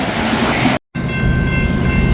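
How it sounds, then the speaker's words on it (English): A Norfolk Southern freight train carrying auto racks rumbles past close by, a loud, steady roar of rolling cars with a brief cut partway through. "Got a Norfolk Southern here."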